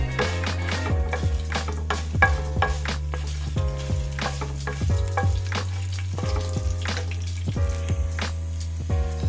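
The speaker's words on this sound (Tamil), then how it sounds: "இப்போ நல்லா ஃப்ரை ஆயிடுச்சு" Fenugreek seeds with green and dried red chillies frying in a pan for gongura thuvaiyal, a soft steady sizzle broken by repeated sharp clinks of a spoon scraping and stirring against the pan.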